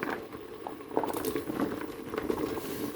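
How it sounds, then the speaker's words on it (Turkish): Okra is tipped into a pan of tomatoes that have already cooked down and turned juicy, giving a faint, close bubbling sizzle with soft wet pops and patter throughout and no one speaking. "Şimdi bamyalarımızı ilave ediyorum."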